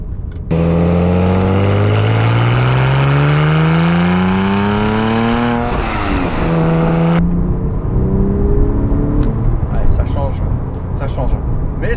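A car fitted with an Evox exhaust, valves open, pulls hard in second gear, the loud engine note rising sharply, then a shift and lift-off leave a lower rumble.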